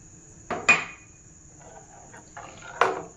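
A spoon knocks against a cooking pot while custard is stirred into milk, giving three separate, close metallic clinks over a quiet background.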